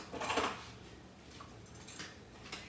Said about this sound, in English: I'm gonna throw all my stuff in the sink